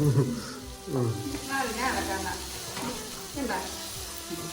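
Chicken curry sizzles and fries in a pan as it is stirred, a steady close hiss with scraping strokes, while people talk over it.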